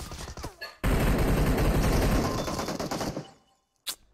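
A shotgun fires in a video game, producing a sudden loud blast followed by roughly three seconds of dense, rapid, close gunfire. It then tails off into quiet, broken by a single sharp shot near the end.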